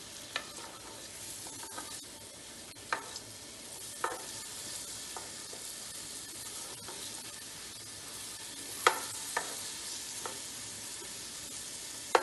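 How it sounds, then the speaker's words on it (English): Chopped onion frying in hot oil while being stirred, giving a steady soft sizzle broken by occasional sharp clicks of a spoon against the pan, with no talk. "We need to fry onion in oil."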